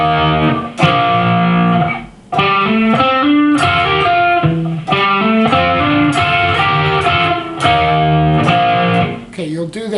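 An electric guitar with distortion plays a riff: thick sustained chords and bending lines, loud and close, continuing for several bars.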